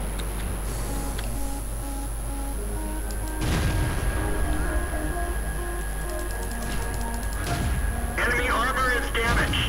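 A tank cannon fires in World of Tanks from an M7 tank: one heavy blast about a third of the way through, over steady game music and engine rumble, with a voice talking.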